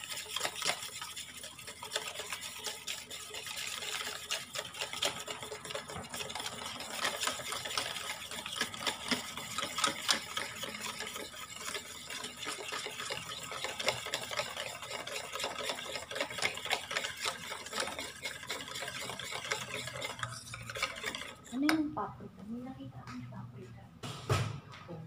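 Onion ring batter being mixed with salt, pepper and Magic Sarap seasoning: a continuous wet stirring and slopping close by that runs for most of the stretch, then tapers off into a few quieter knocks near the end.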